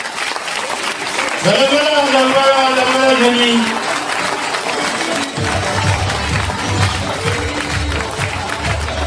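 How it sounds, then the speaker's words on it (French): Applause from the crowd at a local fashion show, a steady wash of clapping through the whole stretch while someone speaks and a voice sings over it. "Je vous remercie de vos applaudissements."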